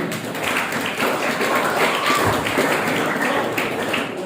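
A seated audience of Islamic boarding-school students claps for a young performer after his stand-up act at a public-speaking event, a steady, moderately loud patter of many hands held evenly throughout.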